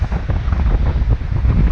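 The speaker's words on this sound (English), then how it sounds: "it's been really bad, really windy" Strong wind buffets the microphone beside the sea at a Swedish wild camping and canoeing spot, a loud continuous low roar with gusty surges and breaking waves mixed in.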